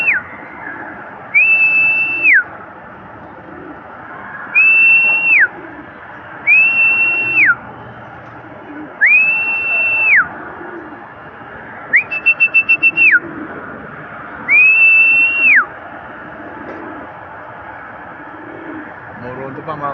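A bird gives six clear, loud whistled calls, each a sustained tone with a quick rising start and falling end, spaced a couple of seconds apart over low background rumble; one call is broken into rapid trills.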